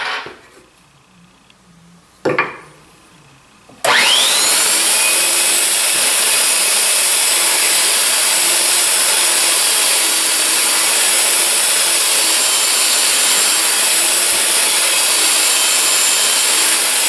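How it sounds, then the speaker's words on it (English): Continuous rough scraping of 80-grit sandpaper rubbed by hand over wood, loud and close, after a couple of brief quieter knocks at the start. "I've resorted to just hand sanding this on both sides, obviously."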